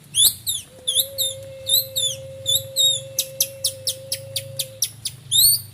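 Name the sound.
bird calls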